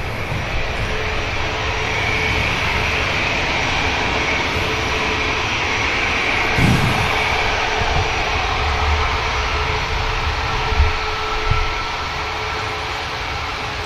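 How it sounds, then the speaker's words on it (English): A Ryanair jet departing Manchester Airport, a sustained engine roar heard from a distance, steady and fairly loud, with a few brief thumps partway through. "Ryanair is going to get out next."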